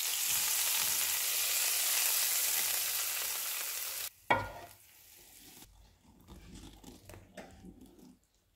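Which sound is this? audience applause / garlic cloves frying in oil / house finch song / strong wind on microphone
garlic cloves frying in oil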